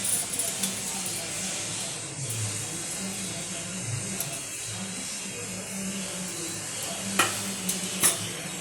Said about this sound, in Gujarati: જો મિત્રો, અમે તેલ ગરમ કરવા મૂક્યું છે। હવે આપણે એમાં જીરું ઉમેરીશું।